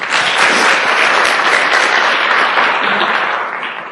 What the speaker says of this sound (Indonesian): Aplaus lah buat Anda semuanya.